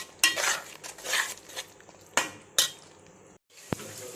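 A spoon scrapes and clanks against a metal pan while stirring a raw prawn and gongura curry, in several irregular strokes, close by, with brief pauses between them.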